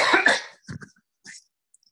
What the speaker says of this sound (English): I'm going to cough for a second and try not to blow your ears out